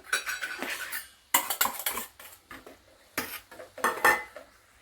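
A spoon mixes sunflower oil and powdered sugar in a bowl for a Christmas plum cake, giving close bursts of clinking and scraping against the bowl, separated by short pauses, with no talking.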